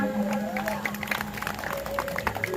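Audience claps and cheers at a live Marathi gaulan stage performance, a brief burst of crowd applause mixed with music and voices in the background.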